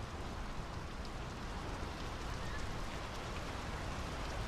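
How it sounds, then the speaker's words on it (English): Rain falls in the video game Draugen, a dense, even wash of downpour that holds steady for several seconds with no voices. "The rain's picking up."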